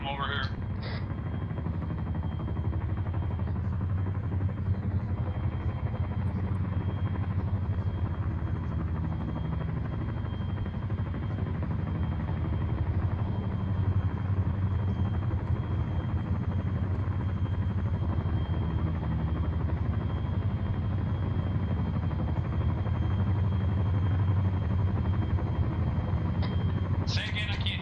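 Helicopter engines idling on a military exercise landing zone, a loud continuous rotor and turbine rumble that fills the whole stretch, with voices speaking over it now and then.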